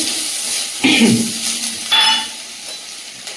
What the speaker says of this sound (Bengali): তেলের মধ্যে আদা কুচি দিয়ে দেবো